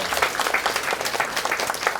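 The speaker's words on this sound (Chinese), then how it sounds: "现在请让我们热烈鼓掌欢迎美国清觉基金会主席宗萨欽哲仁波切" An audience at a Buddhist translation-program signing press conference gives dense, steady applause to welcome Dzongsar Khyentse Rinpoche, loud and continuous with no pauses.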